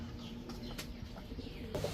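Pigeons, including a pair of black gorra pigeons offered for sale, give soft, faint coos against a steady low background murmur, with no voices.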